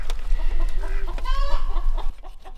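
A live meat chicken on a farm clucks in a quick series of close, loud, nasal calls just before being placed in a kill cone for butchering, then goes quiet.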